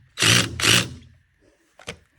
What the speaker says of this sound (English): I cut that and then put it in my drill, and then it's easy.